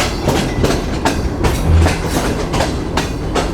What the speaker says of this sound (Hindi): 7:15 बजे ट्रेन हमारी अप्रोच बना रही है रोडी जंक्शन रेलवे स्टेशन पर